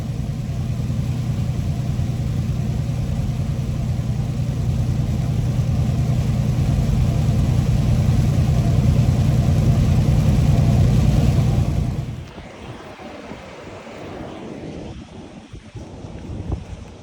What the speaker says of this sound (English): It is pouring!